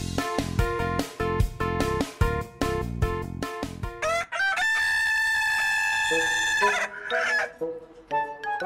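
A rooster crows repeatedly in an advertisement for an Okinawa brand of free-range chicken, with loud, strident calls, some clucking, and bright musical accompaniment beneath.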